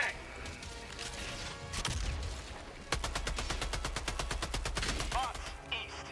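Rapid bursts of automatic gunfire from the video game Helldivers 2, a dense rhythmic volley of shots in the second half after rougher combat noise, loud and close.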